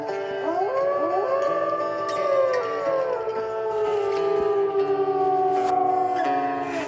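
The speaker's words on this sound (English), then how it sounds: "Whenever I find a mate for my wolves, we howl." Several wolves in the WolfQuest game howl together, overlapping long rising and falling wails that sustain loudly and close for several seconds, with no talking.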